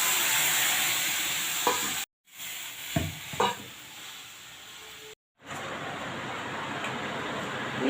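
Water poured into a pan of mustard-paste fish curry with turmeric, giving a steady loud hissing sizzle broken by a couple of sudden cuts and a few knocks and scrapes.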